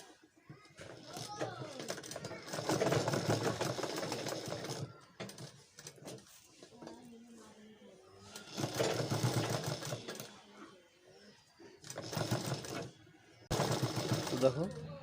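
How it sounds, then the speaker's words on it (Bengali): Sewing machine stitching folded fabric, running in several loud bursts of steady mechanical whirring separated by pauses, with a voice talking in the gaps. "সেলাই করে নেব।"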